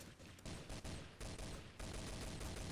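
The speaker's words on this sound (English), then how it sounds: "They're shooting at you." Rapid, dense gunfire crackles continuously in a round of Trouble in Terrorist Town in Garry's Mod, with bursts overlapping throughout at a faint overall level.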